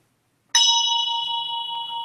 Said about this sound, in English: My Tibetan bell wanted to sing for a second.